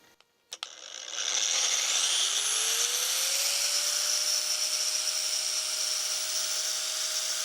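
An angle grinder and a sander spin up together on a portable power station, a rising whine settling into a loud, steady high-pitched roar after a couple of clicks, with no talking.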